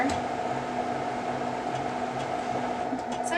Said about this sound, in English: my printer is initializing and resetting the drum right now